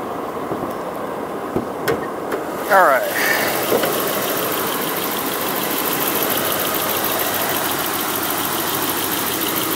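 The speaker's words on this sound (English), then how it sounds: "The engine is running." A 1991 Toyota Crown Royal Saloon G engine idles steadily at close range with the hood open, a low continuous rumble with a brief clunk and rustle early on.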